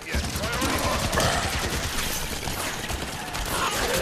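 Rapid gunfire from cover fire in Halo 5 Guardians on Xbox One, a steady dense stream of shots filling the whole stretch at constant loudness, with faint voices mixed underneath.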